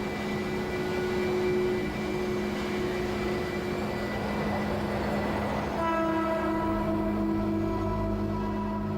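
A Tokyo subway train hums and rumbles steadily with sustained tonal whine, the pitch stepping up partway through as it moves, loud and close with no voices.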